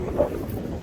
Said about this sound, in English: It's a nice day. The sun is real shining, and it's really, really windy.